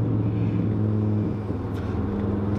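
An Audi RS3 sedan tuned to 670 hp drives gently to warm up, its engine a steady low drone with a brief dip in pitch midway, heard close from inside the car.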